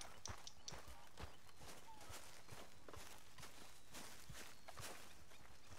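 Rapid rhythmic hoofbeats of a horse clip-clopping along at a steady pace, close and moderately loud, near a camp in Red Dead Redemption 2.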